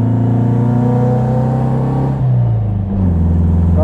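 A 1957 Porsche 356 Speedster with an uprated engine pulls hard uphill, its loud, close engine note climbing steadily, dipping briefly at a gear change and then rising again.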